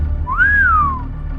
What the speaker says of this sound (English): Also, that whistling effect.